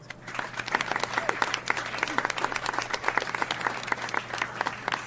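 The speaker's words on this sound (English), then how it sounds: "I'd like you to give a big round of applause" An audience in a lecture hall gives a sustained round of applause, dense overlapping claps that are loud and steady for the whole stretch, welcoming a professor to speak.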